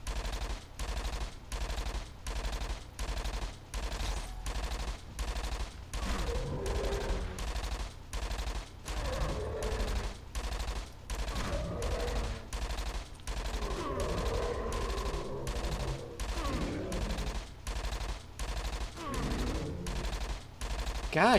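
Gunfire in a video game fighting guardians, with rapid repeated automatic bursts running steadily throughout, loud and continuous over a low drone.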